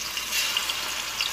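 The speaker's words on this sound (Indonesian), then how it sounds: "ini daging ayamnya mau digoreng dulu sebentar" Chicken meat fries in hot oil with a dense, close crackling sizzle, bright and steady with small bursts of popping throughout, and no one speaking.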